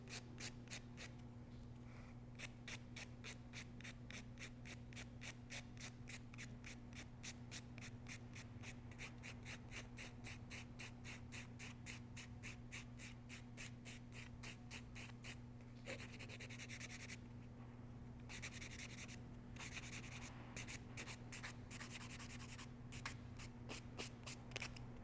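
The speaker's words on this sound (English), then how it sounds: "Lightly buffing. Don't over buff. Just buff to remove the shine." Light, rapid back-and-forth strokes of a buffer across a fingernail, a steady soft scratchy rhythm over a constant low hum, with a few brief pauses partway through.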